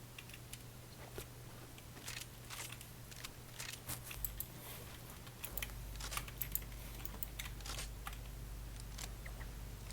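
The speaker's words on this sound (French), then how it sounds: "On t'entend taper sur ton clavier" Rapid clicking keystrokes on a computer keyboard, close and fairly quiet, tapping in irregular bursts over a steady low hum.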